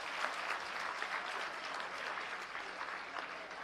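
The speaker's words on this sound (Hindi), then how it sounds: "तालियां जोरदार होती रहें आपके साथ।" An audience at a Delhi government school inauguration applauds with steady, continuous clapping from many hands, fairly soft and even from start to finish.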